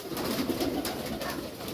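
Several pigeons coo in a soft, continuous low burble over a faint background hiss.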